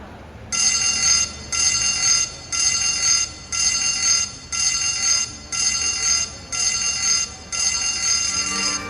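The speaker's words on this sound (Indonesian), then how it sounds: "Jika Anda mendengar bunyi alarm pendek 7 kali dan panjang 1 kali" Shipboard emergency alarm on a passenger ferry: a loud, steady electronic tone sounding in a series of seven short, evenly spaced blasts, with no talking over it.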